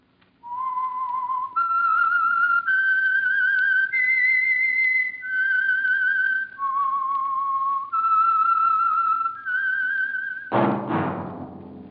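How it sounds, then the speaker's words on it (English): A lone whistled theme melody for the old Signal Oil radio mystery program The Whistler: a clean, steady sequence of sustained notes stepping up and down, ending in a sudden loud burst. "That whistle is your signal for the Signal Oil Program, The Whistler."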